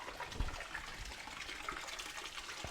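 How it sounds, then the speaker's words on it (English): Water rushes and gushes through the cooling system of a 1997 Jeep TJ Wrangler during a forward and reverse flush, a steady close hiss with small splashes and no talking. "So we'll do a back flush, what we call a forward and reverse flush."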